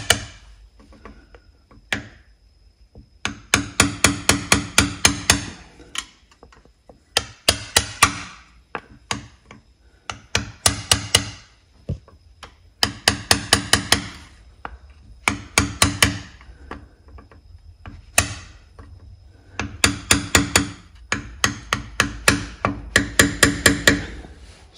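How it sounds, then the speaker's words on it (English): Sharp metal-on-metal taps from a screwdriver gently driving an oil seal into a Briggs & Stratton Intek 22hp engine on a John Deere D140 mower, coming in quick clustered bursts of strikes with short pauses between, close and fairly loud. "Tap it down here, just a little bit more here. Really gentle here with my screwdriver."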